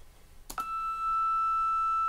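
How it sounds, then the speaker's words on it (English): A high-pitched sine wave test tone from audio software comes in after a brief click and holds steady and pure, loud and alone, to the end. "And this time we're going to pick a sine wave."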